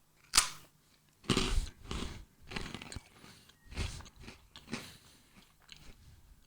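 Someone bites and chews a freeze-dried strawberry ice cream sandwich, several dry crunchy bites followed by close, quiet chewing with short pauses between.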